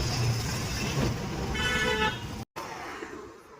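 Congested road traffic near the Pune bridge in a long jam, with a steady engine rumble and a few car horn toots sounding close by, followed by a brief dropout.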